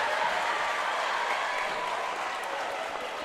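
Basketball fans in a gym cheer steadily at a school game between TCA and USJ, a dense, sustained wash of crowd noise and applause filling the whole stretch without letting up.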